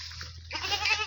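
A goat bleats once up close in a village setting, a short rising wavering cry following a few faint scuffs.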